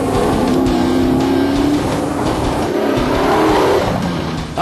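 A Bowler Wild Cat race car driven hard, its engine roaring loud and close with a steady, slightly rising drone and a hint of tyre noise, continuous throughout.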